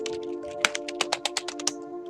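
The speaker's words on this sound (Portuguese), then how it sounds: "E fica muito mais simples de você fazer o teste no teclado." Close, crisp keystrokes on a computer keyboard during a key test, a dozen or so irregular clicks in quick succession over a steady electrical hum.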